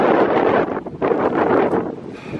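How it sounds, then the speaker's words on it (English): Strong wind buffets the microphone outdoors at an abandoned 1895 one-room schoolhouse in Indiana, loud gusty roaring with brief lulls. "The wind is astronomically bad."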